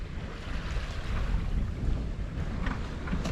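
A sailboat ghosting along at about four knots in light wind off the Scottish coast near Arran, with continuous water rushing past the hull and low wind rumble on the microphone.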